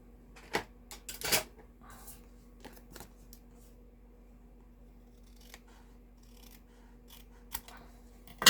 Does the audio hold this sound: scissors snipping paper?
yes